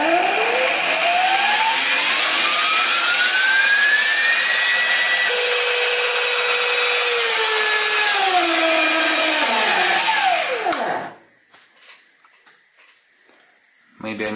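A stepper motor run by a TB6600 or DM556Y driver whines loudly with steady tones that rise and bend in pitch, then drops out abruptly as the motor stalls, leaving a faint hum.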